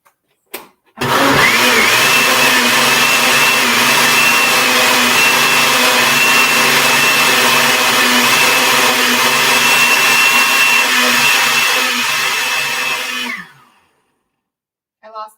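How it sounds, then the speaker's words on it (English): A countertop blender with its lid missing whirs loudly while blending turmeric shots, starting abruptly, holding a steady high-pitched motor roar for about twelve seconds, then winding down to silence. "lost the lid to my blender. That's why I have to hold my hand over it."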